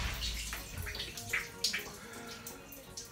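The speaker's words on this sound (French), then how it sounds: "quand vous rentrez dans votre douche, commencez par mettre de l'eau tiède" A shower running inside a home bathroom, a steady close spray of water with small splashes and drips, quiet and continuous, no one speaking.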